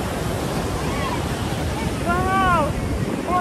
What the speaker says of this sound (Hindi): पीछे से समुद्र की लहरें भी आती है स्पीड से